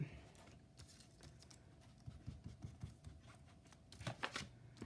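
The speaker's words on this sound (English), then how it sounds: "Squeaky paper." Close, quiet crinkling and squeaking of paper being handled and folded for a woodland gnome junk journal, in scattered short bursts with a louder flurry near the end.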